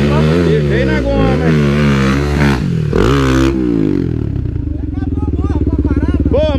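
A Honda Tornado 300 motorcycle revs and accelerates on a dirt trail, loud and close, its engine note rising and falling while people talk and shout over it.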